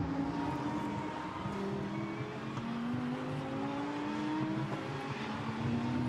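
Lamborghini Super Trofeo race cars howl around Misano circuit, with engine notes rising and falling as they accelerate and pass, steady and fairly loud throughout with no talking.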